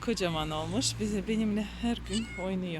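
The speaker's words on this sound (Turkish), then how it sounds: "arkadaşlar bu kedi de bizim bahçede büyüdü" A grown cat raised in a garden meows several times at close range, its calls alternating with a person talking over it.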